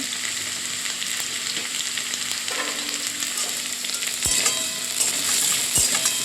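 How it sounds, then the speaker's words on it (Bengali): Potatoes frying in oil in a pan, fried until deep red, with a steady, dense sizzle that runs throughout and a couple of sharp clicks near the end. "দেখো, আলুগুলো ভাজা হয়ে গেছে, পুরোটা লাল লাল হয়ে ভাজা হয়ে গেছে"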